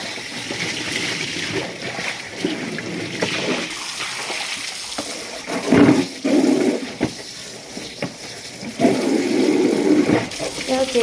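Clothes hand-washed in water at an outdoor tap area: steady splashing, sloshing and dribbling continue throughout, with louder bursts of wet scrubbing and splatter near six and nine seconds.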